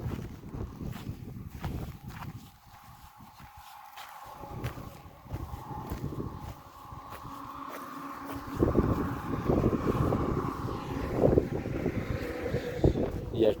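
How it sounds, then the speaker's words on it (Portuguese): Gusty wind buffeting the microphone on a thorny dirt road in Bolivia, rumbling in uneven bursts with a low, fluctuating roar, with footsteps and faint rustling mixed in. "O vento tá vindo de lá pra cá."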